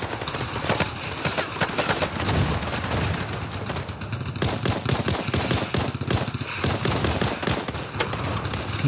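Dense, continuous gunfire from the Day of Wars video game, rapid overlapping bursts of automatic shots, loud and close throughout.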